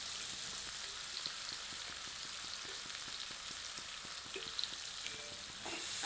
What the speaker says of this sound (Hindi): आंच को मध्यम करके प्याज को तब तक भूनते हैं जब तक कि प्याज सुनहरी आभा युक्त नहीं हो जाती